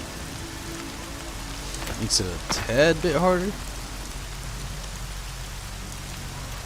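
Rain falls in the video game Horizon Zero Dawn, a constant broadband patter of drops on surfaces throughout, while a player speaks briefly over it midway.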